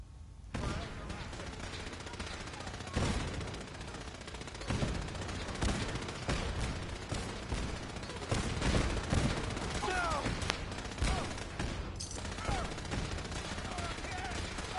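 Sustained automatic gunfire in Fallout 4 rattles continuously in loud, dense volleys with occasional sharper shots, alongside battle noise and scattered voices.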